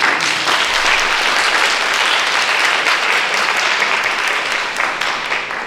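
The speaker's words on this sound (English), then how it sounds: "Can we give another round of applause for Anna," Sustained, dense applause from a large audience at an architecture and urban biennale forum, steady and loud throughout and tapering slightly at the end.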